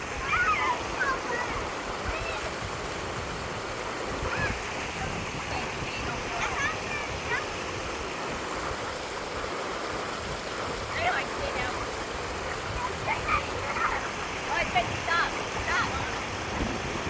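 Lytle Creek flows in a constant broad rush of water outdoors, steady and fairly close, with wind buffeting the microphone and occasional faint voices of a family playing nearby.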